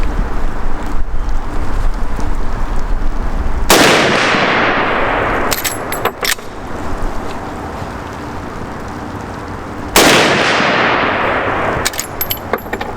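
Suppressed 30-30 rifle firing supersonic rounds, two sharp loud cracks several seconds apart, each followed by a decaying outdoor echo, with faint metallic clicks between.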